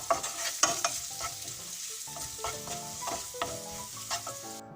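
Fennel seeds, turmeric powder and curry leaves fry in a pan while a spoon stirs them, giving repeated close scraping and tapping strokes over a soft sizzle, with no voices.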